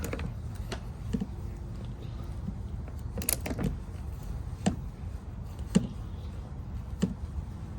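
A spark plug wrench works loose the battery hold-down on a 2007-2017 Jeep Wrangler JK, giving a scatter of sharp metallic clicks and clanks over a low garage-like rumble, close by with no talk.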